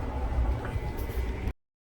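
A passenger train running near Hosapete, a steady loud low rumble heard from inside the carriage, cutting off abruptly at the end.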